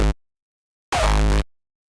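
Two short bursts of a synthesized, high, crunchy sound layer with EQ-boosted lows, each stopping abruptly and separated by silence.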